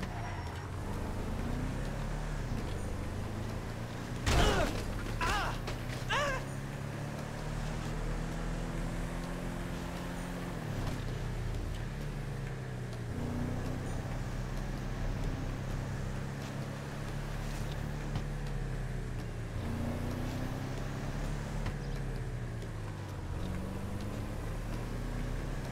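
A car driving in GTA Online, its engine droning steadily with pitch rising and falling as it speeds up and shifts, and a short, sharp knock or clatter near the start.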